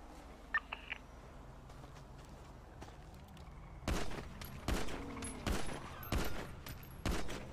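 Gunfire in a GTA roleplay game: a few faint isolated pops early on, then from about four seconds a series of loud, sharp shots in quick bursts, spaced out with short pauses.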